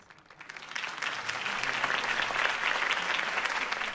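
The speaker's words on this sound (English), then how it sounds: "If only Mr. Wayne, my campaign's largest backer, could have heard that applause" Crowd applause after a campaign speech in a Batman video game, clapping swelling up from quiet to a steady, dense ovation that carries on to the end.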